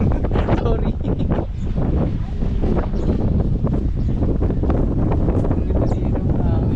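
Strong wind buffets the microphone on Boracay island, a continuous loud roaring rumble with gusty surges throughout.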